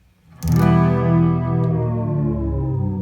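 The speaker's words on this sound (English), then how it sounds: "So now we're only hearing the pitch" Electric guitar run through the pitch shift effect of a BOSS MS-3 multi-effects unit: one loud, sustained strummed chord with a doubled, shifted tone ringing steadily for about two and a half seconds, no talking.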